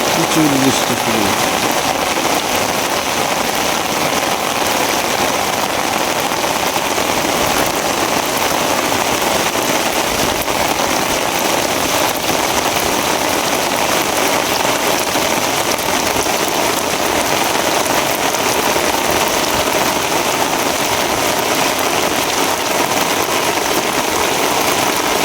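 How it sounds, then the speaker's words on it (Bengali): Heavy downpour pounding steadily on surfaces during fishing with a current net, a loud, unbroken roar of rain that lasts the whole stretch without talk. "বৃষ্টি শুরু"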